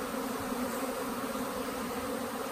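A honey bee swarm returning to its hive makes a dense, continuous buzzing drone, steady and fairly close, with no voices over it.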